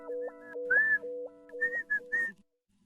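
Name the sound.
person whistling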